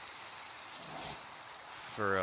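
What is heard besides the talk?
rain falling in the video game Minecraft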